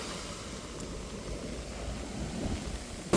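Rain falls at a beach in the evening, an even, continuous hiss with a soft low rumble beneath it, steady from start to finish with no voices.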